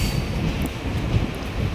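Seshadri Express rolling out of busy Katpadi Junction, a steady close rumble of rail transport with a dense low roar and faint higher rattling, continuous throughout with no voices.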